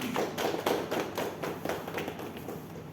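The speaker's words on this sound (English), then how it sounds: "A quick round of applause for this." A small group at a meeting gives a quick round of applause, with sparse, uneven claps and taps repeating for about three seconds and no talking.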